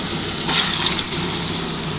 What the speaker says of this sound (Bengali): আমার কিন্তু তেলটা গরম হয়ে গেছে। এবার আমি আলুগুলো দিয়ে দিচ্ছি। এর মধ্যে নুন হলুদ মাখানো আছে